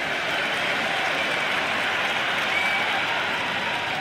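A large cricket stadium crowd roars and applauds after a big hit in a T20 match between India and England, a dense, continuous wall of cheering and clapping with no voices standing out.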